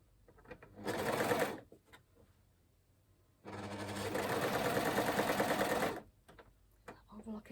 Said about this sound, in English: Overlocking out of the way.